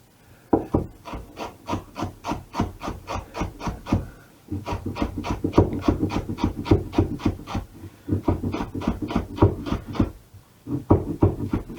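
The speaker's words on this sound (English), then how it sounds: "I shall chop this coriander up first." A knife chops coriander on a wooden chopping board in quick, regular rhythmic bursts of thuds, close and clear, pausing briefly between runs of strokes.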